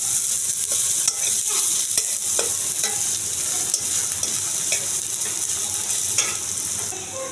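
A bay leaf sizzles in a small amount of hot oil in a pan for a fish and potato curry, a steady close hiss with crackling pops and a few stirring clicks, no talk.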